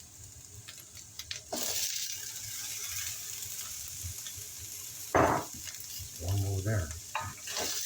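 Carrots and celery stir-fry in a pan with a soft, steady sizzle, broken by scraping and clattering spatula strokes. A voice speaks briefly.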